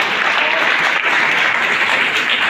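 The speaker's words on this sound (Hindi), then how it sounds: "तो इन बाल प्रतिभाओं के सम्मान में जोरदार ताली फिर एक बार आप लोग बजा लें" An audience at a district poster competition claps loudly in honour of the students, a dense, steady applause that fills the whole moment without pause.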